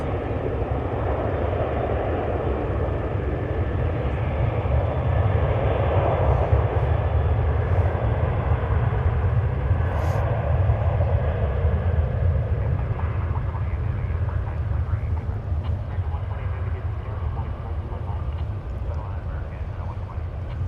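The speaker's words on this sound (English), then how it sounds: "Here comes our Dreamliner from Shanghai" A Boeing Dreamliner airliner arriving from Shanghai at DFW airport gives off a continuous loud, low engine rumble that stays steady the whole time.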